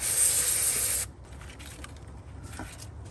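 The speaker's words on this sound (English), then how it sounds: "I'm going to spray this one with a little bit of electronic cleaner." A loud, sharp hiss of electronic cleaner sprayed from an aerosol can bursts for about a second, then cuts off, leaving quiet background noise with a few faint rustles, during valve cover gasket removal on a Toyota/Lexus 5.7L 3UR-FE engine.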